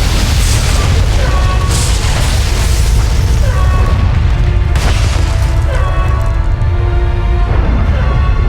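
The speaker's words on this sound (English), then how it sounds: "this place is about to explode" A spaceport on Taris blows up in Star Wars: The Old Republic, a loud, sustained rumbling boom with crackling bursts and debris over several seconds, with no one talking.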